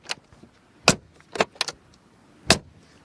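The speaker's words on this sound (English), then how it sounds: "those door handles with a classic door closing sound" A 2019 Mercedes G-Class door, with its upright classic handle, is handled and shut: several sharp metallic clicks and latch clunks ring out close by in quick succession, with one final solid slam, and no voices.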